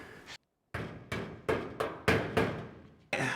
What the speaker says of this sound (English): I do think the hammer is the way to go when you're putting the pin in there.